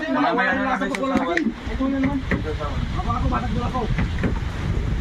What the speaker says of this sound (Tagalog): Ayan na oh, yung hangin oh. Grabe, binabagyan na po kami dito oh.